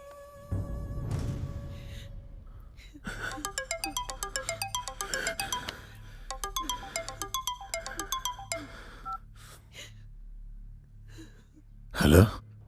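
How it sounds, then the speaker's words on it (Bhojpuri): A mobile phone ringtone plays an outgoing call, a repeating melodic tone pattern heard in several bursts at close range, followed by a few quiet breaths and a short louder noise at the end. "मेमन भाई अभी मैं उसको फोन लगाता हूँ।"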